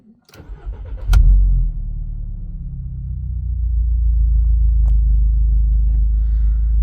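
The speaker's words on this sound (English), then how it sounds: "Let's try and fire up then and see what happens." A VW Polo 9N 1.4 FSI petrol engine cranks briefly, catches with a loud burst, then settles into a steady low idle rumble, close and alone after an EGR repair.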